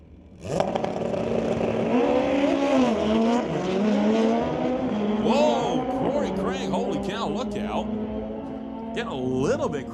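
Drag racing motorcycle at full throttle down the strip, rear wheel smoking and crossed up toward the eighth-mile mark; loud sustained engine roar with rising and falling pitch, under continuous announcer commentary.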